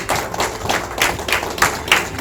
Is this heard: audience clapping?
yes